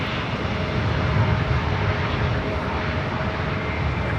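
Spirit Airlines Airbus A321 jet at Los Angeles airport, a loud, broad, steady engine roar filling the whole stretch without breaks.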